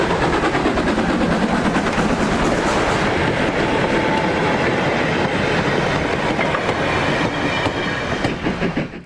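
A steam locomotive train passes close by, a loud, steady roar of wheels and carriages with clickety-clack rhythm throughout, fading slightly at the end.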